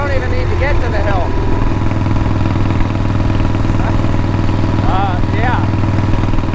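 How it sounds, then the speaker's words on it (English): A Harley-Davidson motorcycle fitted with drag pipes and lollipop baffles rumbles loudly and close, its deep engine note rising as throttle is added; a voice talks briefly over the engine. "As the bike's starting to straighten back up and you're willing to give it some more throttle"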